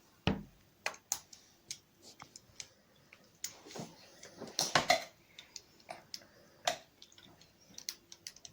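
Mayonnaise and vegetables are stirred together for a chicken pasta salad, giving quiet, irregular clicks and taps of a spoon against a bowl with soft squishy mixing sounds in between.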